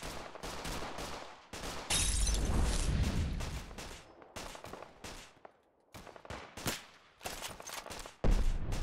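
Heavy-recoil gunfire in a Fallout 4 zombie mod: loud, booming shots and rapid bursts crack one after another for several seconds, with a brief lull before the firing resumes in sharp bangs.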